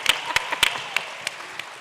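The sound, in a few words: audience applause at a panel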